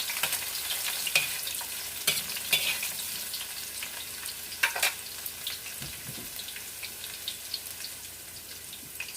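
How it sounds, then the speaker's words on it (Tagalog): Garlic frying in hot oil in a pan as it is stirred, a steady soft sizzle with scattered pops and occasional scraping, close and moderately quiet, no talking. "Lagay muna natin ang garlic guys. Tapos haluin."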